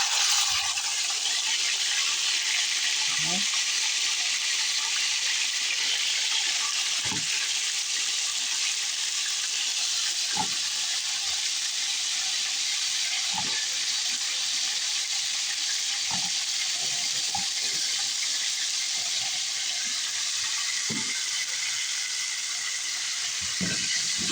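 Chicken pieces frying in two spoonfuls of ghee in a pan, a steady close hiss and sizzle throughout with occasional soft clinks and stirring knocks, no talking.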